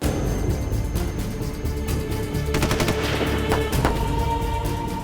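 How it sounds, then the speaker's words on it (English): A sustained burst of automatic weapon fire, a fast dense rattle of gunshots running continuously at steady loudness with a few heavier booms mixed in. "we got under burst of automatic weapon fire"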